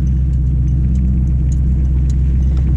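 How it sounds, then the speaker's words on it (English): A Chevy OBS truck's engine rumbles steadily during a test drive, a loud, constant low drone heard from inside the cab with no voices. "I'm driving the black truck"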